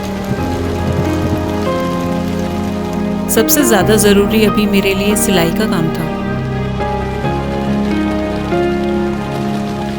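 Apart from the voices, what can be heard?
heavy rain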